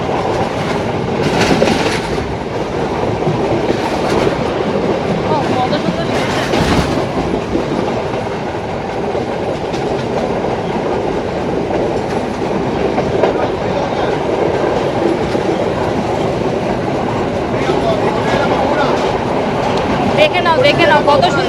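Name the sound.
train running at speed on a Sri Lankan railway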